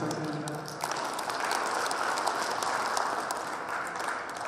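An audience applauding at a Korean hometown association inauguration ceremony, a steady, dense clapping filling a hall and lasting the whole stretch.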